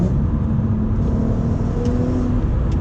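An Audi five-cylinder hatchback engine revs loudly and steadily, a deep throaty drone that holds at high pitch throughout with no pauses.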